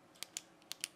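A BIC Atlantis Comfort retractable pen with rubber grip and chrome-look plastic tip clicks four times in two quick pairs, crisp, close and quiet.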